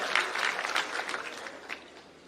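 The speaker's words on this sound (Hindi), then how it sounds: "एक बार जोरदार ताली बजा दें" A crowd at an office-taking ceremony claps for the stage guests, including the women's wing president, brisk applause that thins and fades toward the close.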